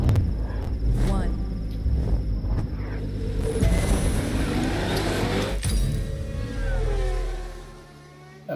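A hypercar roars through a race event in The Crew 2, a continuous engine drone with gear shifts and rising revs, loud and close throughout, easing off near the end, with someone talking over parts of it.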